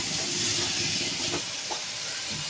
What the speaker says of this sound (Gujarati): ટામેટાને મિક્સ કરી દઈશું